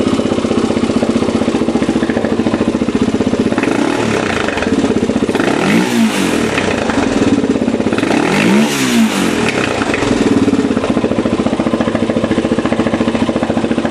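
A Honda 400EX quad engine runs loudly and steadily at close range, with two rising revs that swell and fall back to a rough, throbbing idle.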